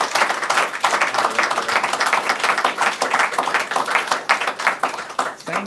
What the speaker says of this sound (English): Yes, I like the applause.